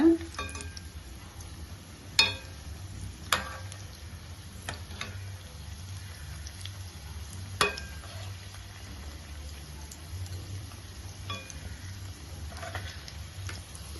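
Paneer kola balls frying in hot oil, a soft steady sizzle running the whole time with a few sharp ticks and clinks from a utensil, moderately close and fairly quiet.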